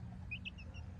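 Young chicks peep in a few short, high chirps, faint and close, over a low steady background hum with no talking.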